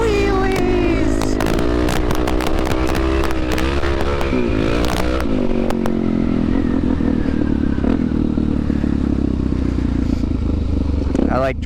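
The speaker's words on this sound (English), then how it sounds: "dropped the clutch on that and the rear tire was like blowing off as the front end was coming up" Suzuki DRZ400 dirt bike revving hard off-road as the clutch drops for a wheelie and the rear tire spins, engine pitch sweeping up and down loudly and close, with clattering and a steady high engine drone throughout.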